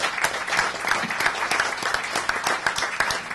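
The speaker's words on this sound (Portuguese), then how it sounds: "eu peço uma salva de palmas para ele" An audience at a higher education awards ceremony breaks into steady, sustained applause, dense clapping that holds at an even level throughout with no talk over it.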